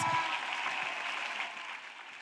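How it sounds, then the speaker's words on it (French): A church congregation claps in acclamation of Jesus Christ, a steady wash of hands fading gradually over two seconds, moderately distant. "Acclamation à Jésus Christ"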